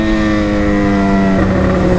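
A Yamaha XJ6 motorcycle with an open, straight-pipe exhaust idles close by. Its deep, loud rumble has a steady throb and a slight pitch shift partway through.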